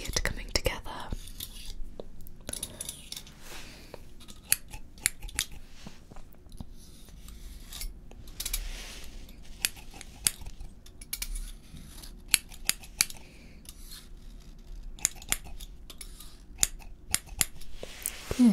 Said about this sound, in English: I will just go over to the back now and just do a couple of snips along there